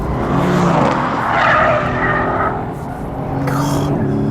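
Loud tires squeal and scrub as a Mercedes C63 S Coupe, rear-wheel drive, slides sideways, its engine roaring underneath in one continuous, wavering run.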